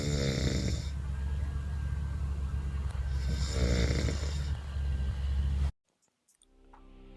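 A man snores loudly and close by during a night near the South Pole, with steady rasping breaths in a regular rhythm that end suddenly in near silence.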